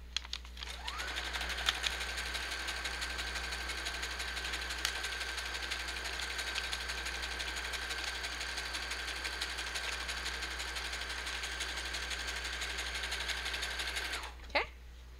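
A sewing machine runs steadily in zigzag stitch through paper for a junk journal, one continuous even whir lasting about thirteen seconds, close and clear, then stopping with a brief tail at the end.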